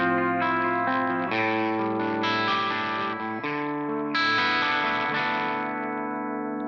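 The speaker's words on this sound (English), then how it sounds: "go back to the passive pickups, and let's see what happens when you turn the guitar down." Electric guitar with passive pickups and its volume turned down, played through a Corona chorus pedal: sustained, shimmering chords ring out loud and alone, changing every second or so with a lush modulated wash.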